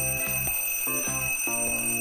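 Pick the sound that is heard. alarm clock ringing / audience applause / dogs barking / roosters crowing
alarm clock ringing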